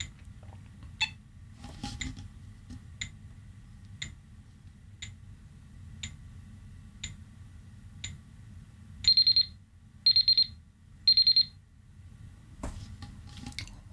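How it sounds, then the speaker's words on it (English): A homemade darkroom timer ticks softly once a second in a quiet room, then sounds three short, bright beeps in a row as its film-tank inversion reminder before falling quiet again. "Every minute the timer will make a special tone to let you know you need to do your inversions."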